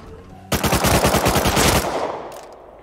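Automatic gunfire in Rust Console Edition: one loud, close burst of rapid shots lasting just over a second, then a fading tail, with no talk.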